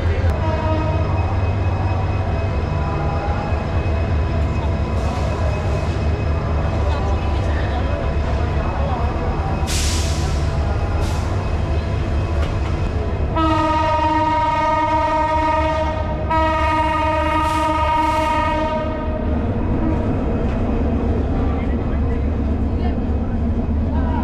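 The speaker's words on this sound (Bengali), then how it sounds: "কক্সবাজার এক্সপ্রেস ছাড়ার অপেক্ষায়" Cox's Bazar Express waiting to depart a station on its first run from Dhaka, with a long loud horn blast and a second one, over steady engine rumble and crowd chatter on the busy platform.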